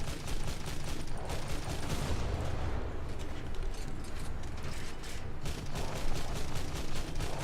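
Naval guns firing in War Thunder, a loud, continuous barrage of booming shots and rumbling blasts that overlap for the whole stretch, with no voices.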